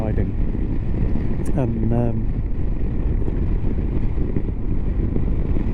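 A Honda CB500X motorcycle rolls along a quiet country road at about 30 mph, its engine drone steady beneath heavy wind buffeting on the microphone while a rider talks over it throughout.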